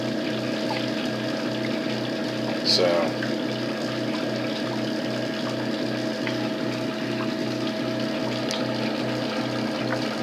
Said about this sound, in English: Will actually allow the mash tun to fill up with water to do a single step infusion